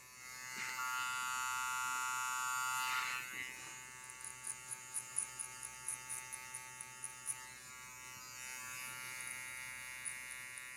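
Electric hair clippers cut a skin fade, first with a steady close-up buzz, then in a rhythmic series of short, light flicking strokes that pulse evenly. The sound is fairly quiet.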